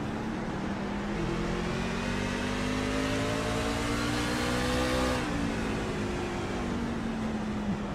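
Truck series race engines screaming at around 11,000 RPM at Martinsville in the iRacing sim: a dense, steady high-pitched drone with rising harmonic whine, continuous and loud throughout with a brief dip near the end.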